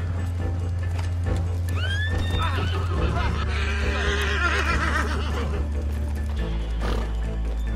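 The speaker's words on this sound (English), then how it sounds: "Where's George the horse?" Horse in the Red Dead Redemption 2 video game whinnying loudly with a rising then shaking neigh, over a steady low game hum and some scattered hoof clops.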